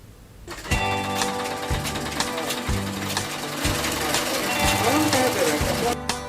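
Several sewing machines in a small room stitch cloth face masks, running as a loud continuous mechanical rattle with steady repeating needle thumps, and people talk underneath the noise.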